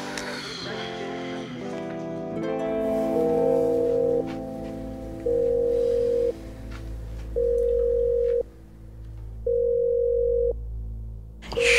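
A telephone call goes unanswered, with the repeating ringback tone sounding in a regular pattern of long beeps and pauses over a low background hum, heard close as if through a handset.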